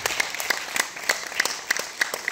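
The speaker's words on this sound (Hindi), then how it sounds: "एक बार जोरदार तालियां बजा दें" An audience at a Hindi poetry recital claps in unison, a close, loud rhythmic beat of sharp synchronized claps about three per second over a light wash of scattered clapping.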